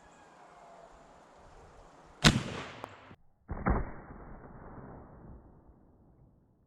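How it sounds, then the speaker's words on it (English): An 1886 Winchester lever-action rifle in 45-90 WCF fires a 700 grain bullet outdoors, one loud sharp report followed by a second heavy boom and a long fading rumble over steady background hiss. "we're going to try out another one of those 700 grain bullets and see what it'll do"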